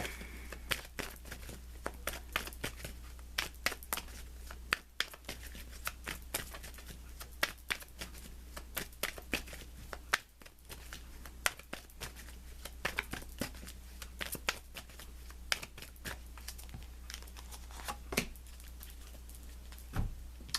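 A deck of tarot cards is shuffled by hand in a quiet room, soft repeated riffling and flicking snaps scattered irregularly over a low steady hum.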